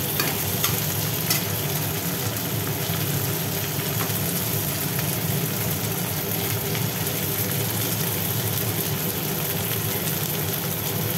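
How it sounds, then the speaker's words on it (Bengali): Onions frying in a pan with tomatoes just added, cooking for a spicy tilapia curry, give off a steady, loud broadband sizzle that holds unbroken from start to finish. "পেঁয়াজটা একটু নাড়াঘাটা করে এইবার দিয়ে দিলাম টমেটোগুলো"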